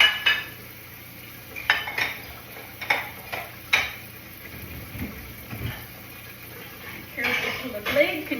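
Dishes, cutlery and coffee cups being washed and tidied in a home kitchen, with intermittent clinks and clatters of ceramic and metal over a low background hum.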